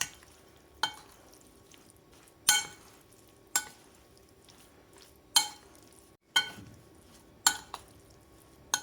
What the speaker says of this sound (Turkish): Kaşıkla karıştırıyoruz balıklarımızı. Her yeri unlansın.